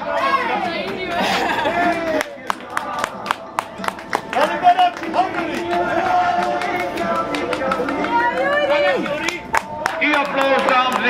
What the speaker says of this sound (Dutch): Een applaus, dames en heren, voor het podium.